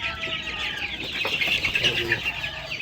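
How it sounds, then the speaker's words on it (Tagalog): A flock of one-month-old chicks mixed with chickens clucking and peeping continuously on a farm, busy overlapping high calls close by with occasional wing flutters, no speech. "So ito yung mga sisiw natin. Ito ay nasa 1 month old na sila."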